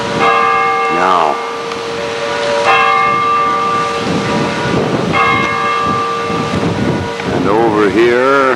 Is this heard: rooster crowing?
no